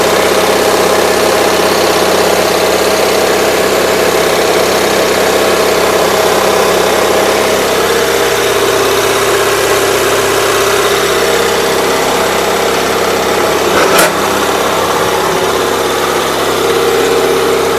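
A 450 machine's engine idles steadily after starting, a loud continuous chugging drone with vibration, one brief sharp knock near the end, and no voices.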